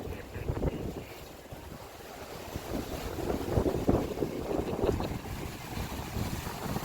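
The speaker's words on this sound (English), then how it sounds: "Oh, it's windy and rainy." Blustery wind roars across the microphone outdoors by the ocean on the Florida coast, a constant low buffeting with surges; any rain is lost beneath the gusts.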